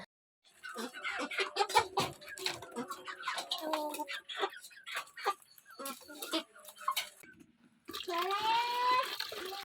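Chickens cluck in a dim village shed while being given feed and water, with scattered squawks and bird calls, soft movement noises and occasional quiet speech.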